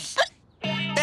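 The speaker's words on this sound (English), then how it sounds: "Oh, these hiccups are ruining me day." A cartoon character hiccups: a short sharp squeak comes first, then a longer voiced, tonal hiccup-like gulp with a strained quality.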